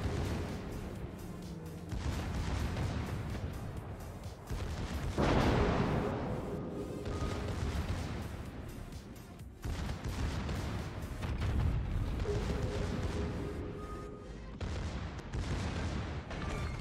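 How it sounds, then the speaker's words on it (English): Secondary guns aboard a Tier X German battleship, the Großer Kurfurst, fire in World of Warships as continuous heavy rumbling gunfire, with layered booms and blasts swelling and easing over a steady roar of battle noise. "I'll just sit here and let my secondaries kill you."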